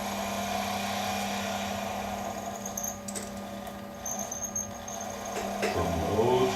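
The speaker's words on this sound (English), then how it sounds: "we have a motor with speed adjustment" A speed-adjustable motor on a Lorch 6mm watchmaker's lathe hums steadily at close range with a constant tonal whine, shifting near the end as the speed changes, with no talk over it.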